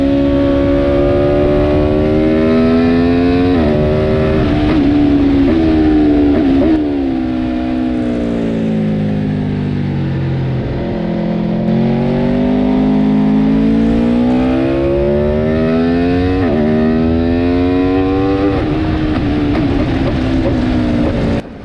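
A track car at Snetterton circuit revs hard, its engine note rising and falling through repeated downshifts with sharp auto-blipper throttle blips, loud and close with no talking.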